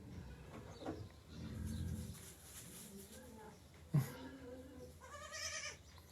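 A tiny goat bleats several times while being fed, close and fairly faint, with short wavering cries near the middle and end and a brief bump of handling noise between them.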